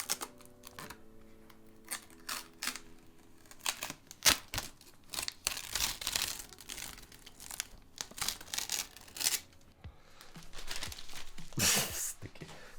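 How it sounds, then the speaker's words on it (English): Protective film is peeled off a Gigabyte Gaming OC RTX 4090 graphics card, with close crinkling, tearing and crackling in irregular bursts, rising to a longer loud peel near the end. "Let's quickly do a peel because there's a lot of peeling action that we can have here."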